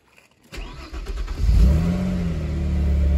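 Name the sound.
Opel Calibra V6 engine starting after crankshaft sensor change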